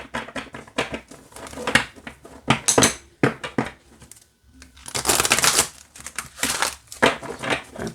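A deck of oracle cards shuffled side by side by hand: repeated bursts of riffling, flapping card noise in uneven clusters, close and crisp, separated by brief pauses.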